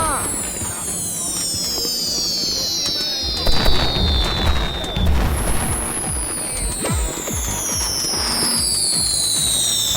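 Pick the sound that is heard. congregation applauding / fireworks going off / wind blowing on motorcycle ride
fireworks going off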